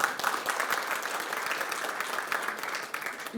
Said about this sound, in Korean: 여러분 따뜻한 박수로 맞이해 주시기 바랍니다